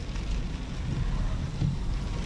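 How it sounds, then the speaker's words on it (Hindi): Steady, heavy rain roars without a break on a foggy day on the Islamabad to Murree road, a dense wash of noise with no voices. "फॉग बहुत ज़्यादा है और बारिश भी बहुत तेज़ है"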